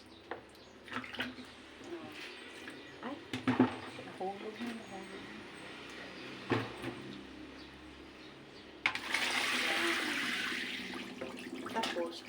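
Water drains and pours from vegetables being washed in a home kitchen for Filipino pakbet, with a few clatters and a rushing, splashing pour near the end while someone talks.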